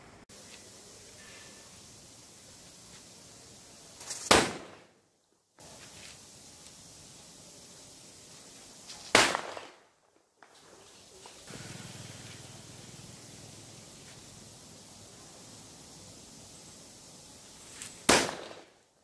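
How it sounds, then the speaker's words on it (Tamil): Ponns brand Ashoka flower pot fireworks from Sivakasi being tested, giving steady hissing, spraying fountains of sparks broken by short gaps, with three sharp loud cracks spaced through the burn. "Ponce பிராண்டுடைய flower pot Ashoka Ponmalai fire works."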